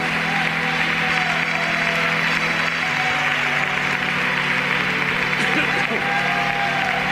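A church congregation claps and cheers in sustained applause during an evangelical service, a dense continuous roar of hands with voices and sung tones mixed throughout.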